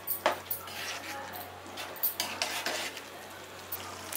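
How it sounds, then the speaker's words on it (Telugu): Mashed chickpeas being stirred into a bubbling chole masala curry: repeated scraping spoon strokes with light clinks against the pot over a faint simmering hiss and a low steady hum. No talking. "అది బాగా మిక్స్ అయ్యేట్టుగా కలుపుకోవాలి."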